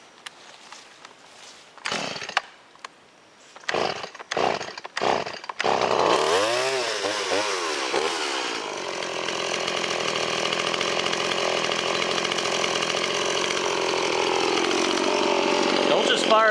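A Stihl SM180 chainsaw sputters through several short bursts, then catches and runs continuously, its engine note rising and settling as it works through wood, close and loud.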